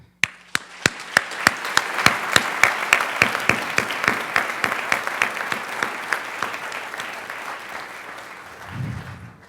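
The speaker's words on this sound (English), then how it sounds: "let's just show them that with one more round of applause" A high school assembly audience claps in unison, sharp rhythmic claps that build quickly into a steady, loud round of applause before tapering off, with a brief low voice at the very end.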